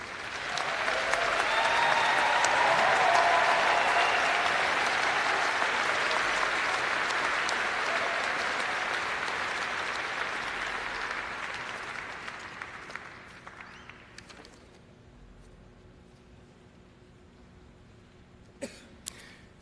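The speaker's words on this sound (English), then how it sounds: "let's give our new doctors another round of applause" A large audience at a College of Veterinary Medicine hooding ceremony applauds loudly for new doctors, a dense sustained wash of clapping that gradually fades over about fifteen seconds into scattered claps and a few coughs.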